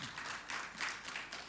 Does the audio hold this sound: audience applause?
yes